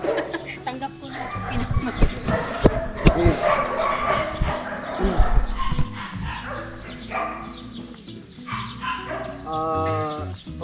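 A K9 dog barks in several sharp bursts amid people talking outdoors, with the barks loud and close against the voices.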